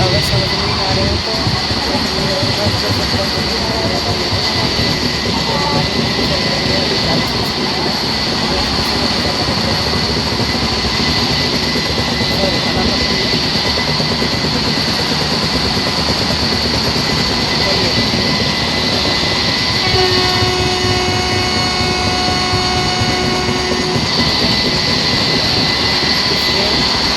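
Double decker passenger train running at speed, a loud continuous roar and rumble with a steady whine, brief tonal squeal partway through, heard from inside the coach.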